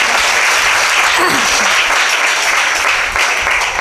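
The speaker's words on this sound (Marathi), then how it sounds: "आता जशा टाळ्या वाजल्यात तसाच आवाज घुमला पाहिजे बरं का मंदिरात" Dense, steady applause from a temple audience at a Marathi kirtan, clapping for the women's group, filling the whole stretch at a loud, even level with no breaks.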